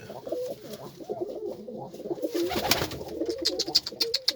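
Tumbler pigeons coo in low, rolling phrases at close range, joined later by sharper chirps and clicks, with no one talking.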